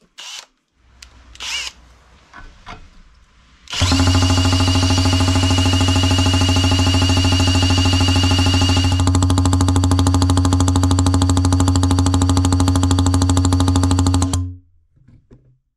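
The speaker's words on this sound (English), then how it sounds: "The one thing I can tell you is this is a 4-stroke weed eater engine." A small 4-stroke weed eater engine fitted to a homemade project starts after a few faint handling knocks. It runs loud, close and steady for about eleven seconds with a strong buzzing whine, then cuts off abruptly.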